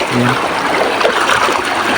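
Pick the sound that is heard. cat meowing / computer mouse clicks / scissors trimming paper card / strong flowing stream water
strong flowing stream water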